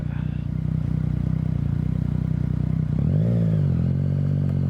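A motorbike on the A592 road between Windermere and Newby Bridge in the Lake District, heard as a steady close engine drone that swells and shifts pitch as it passes, with a voice briefly present.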